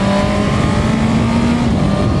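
A Honda CB650R motorcycle with an OEM quickshifter pulls hard on the road in second gear. The engine drones loud and close with a steady buzzing tone that rises slightly.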